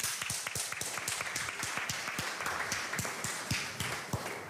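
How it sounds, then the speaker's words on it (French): A small audience at a French developer conference session on serverless claps together, the individual hand claps distinct and rhythmic, fairly close and steady throughout, with no talking. "on va tous s'applaudir"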